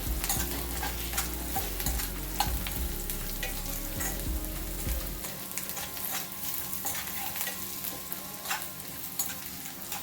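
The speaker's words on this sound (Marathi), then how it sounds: "आता याच्यामध्ये आपल्याला सुकं खोबरं घालायचं आहे या सुक्या खोबऱ्याला लालसर रंग येईपर्यंत आपण हे परतवून घेणार आहोत" Dried coconut being stir-roasted in a pan, with steady scraping and stirring over a low rumble that drops away midway, plus scattered clinks, close and continuous with no voices.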